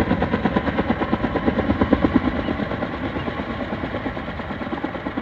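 A helicopter lifting loads in Zermatt, its rotor thumping in a fast steady pulse, with the engine whine droning loudly and continuously throughout.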